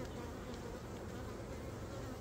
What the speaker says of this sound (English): These bees here are really calm.